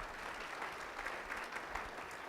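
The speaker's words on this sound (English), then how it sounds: "A big round of applause for being vulnerable." Audience at a workplace wellness summit breaks into applause, a moderate patter of many hands clapping at a fairly even level for a couple of seconds with no talking over it.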